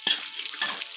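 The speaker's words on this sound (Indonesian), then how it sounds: "Goreng kacang itu enak banget, gampang banget." Peanuts fry in a pan with very little oil, giving a steady, close hiss and sizzle throughout, with a few brief stirring scrapes; no one speaks.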